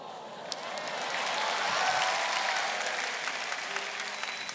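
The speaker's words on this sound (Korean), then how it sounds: "뭘 박수를 쳐?" Congregation at a church prayer rally in a large hall claps together, applause swelling to a full peak and then gradually easing off, with no talking over it.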